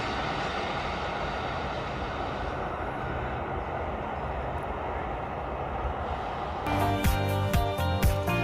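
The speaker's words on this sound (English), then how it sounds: "the sound of the train starting to move away" Train noise rumbles steadily with wheel clatter, then a sudden burst of bright, ringing metallic tones with rhythmic pulses takes over near the end.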